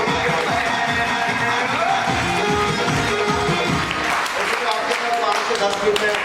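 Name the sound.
audience applause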